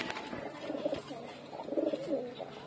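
A pair of China Khaki pigeons coo softly at close range, with two short bursts of low, throaty cooing against a quiet background.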